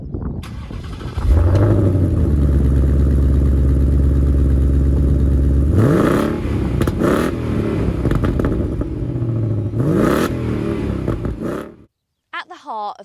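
A 2023 Ford Mustang California Special V8 engine cranks and fires up into a loud, burbling idle, then blips the throttle a few times with rising roars before cutting off abruptly.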